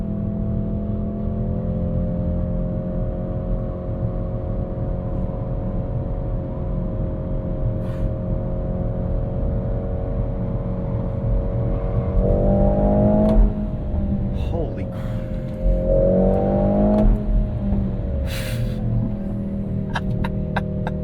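A 2025 Mercedes-AMG GLC 63 S E Performance SUV is driven hard in race mode around a cloverleaf with carbon-ceramic brakes, giving a steady loud engine drone that surges and climbs in pitch twice, heard from inside the cabin.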